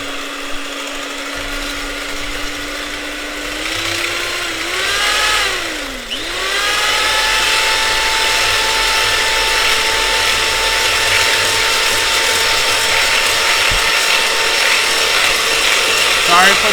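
A KitchenAid mixer whips meringue for a homemade chocolate pie, giving a loud, steady motor whir with whisk clatter that dips briefly in pitch partway through, then carries on unbroken.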